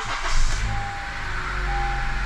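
A 2012-2014 Honda CR-V engine starts up, a brief rising crank and catch that settles into a steady low idle rumble with a faint chime tone, close and clear.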